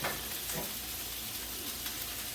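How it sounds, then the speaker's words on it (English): About a pound of large shrimp cooking in a hot pan for shrimp and asparagus pasta, giving a dense, continuous sizzle that stays steady and fairly loud throughout with no speech. "So the shrimp are cooking."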